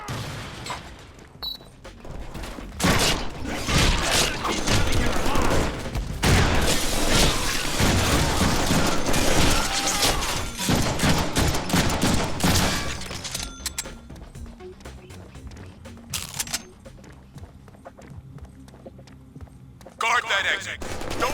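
Gunfire and explosions in the Deadpool video game, dense, loud crackling bursts and booms filling the first half, then thinning into scattered impacts and sharp hits, with voices talking over the action.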